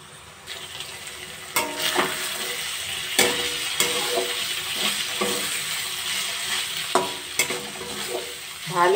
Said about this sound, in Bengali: আলু দিয়ে, ছোলা দিয়ে, মশলা দিয়ে ভালো করে এবার কষিয়ে নেব।